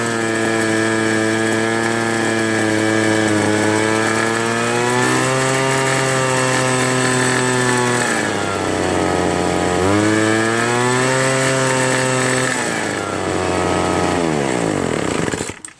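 A Craftsman Bushwacker petrol hedge trimmer engine runs steadily at high throttle for the whole stretch, a loud, close, buzzing two-stroke drone with brief dips in pitch before cutting off at the end.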